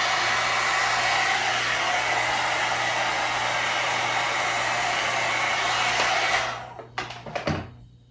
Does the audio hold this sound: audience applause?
no